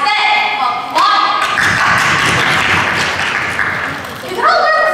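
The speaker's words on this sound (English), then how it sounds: "Let's give him a round of applause." An audience applauds at a high school student stage show, a dense burst of clapping swelling for a few seconds between stretches of voices.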